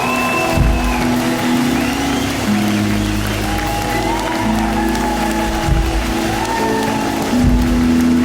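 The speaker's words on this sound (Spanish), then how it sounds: "Den un aplauso al Señor esta tarde." A church congregation claps steadily for several seconds while sustained music, like an organ or keyboard, plays underneath.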